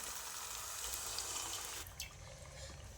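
Water is poured into a pan of whisked dal with spinach sautéed in oil, a steady close splashing stream lasting about two seconds before it stops, with no voices.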